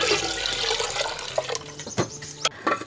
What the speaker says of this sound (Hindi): जितना हमने बैटर तैयार किया था उससे तकरीबन 2 गुना हम पानी शामिल करेंगे इसमें।